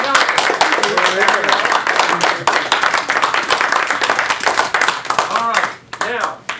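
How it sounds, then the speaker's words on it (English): At a civic forum on campaign reform, an audience applauds a speaker. The clapping is loud, close and dense for several seconds, thins out near the end, and voices murmur faintly under it. "let's have another round of applause for our speaker, Dave Melton."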